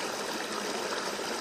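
River water pours over the Mary River weir in a steady, close hiss and gurgle, continuous and moderately loud with no voices.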